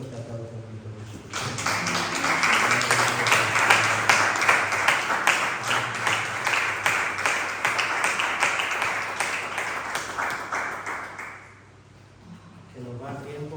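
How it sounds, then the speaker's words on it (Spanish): A church congregation bursts into loud, sustained applause lasting about ten seconds, dense rhythmic clapping filling the room before fading, with a voice heard just before and after. "Dale un fuerte aplauso a Cristo Jesús."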